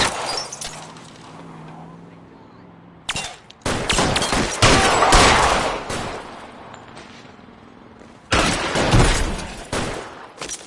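Bursts of rapid gunfire in L.A. Noire crackle loud and close, a short volley followed by longer sustained barrages after a quiet pause, with faint voices between them.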